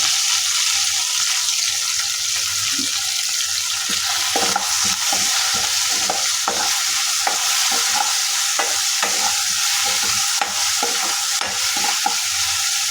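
Vegetables, including okra, fry in a pan while a spatula stirs them repeatedly, giving a continuous crackling sizzle broken by rhythmic scraping strokes, close and fairly loud.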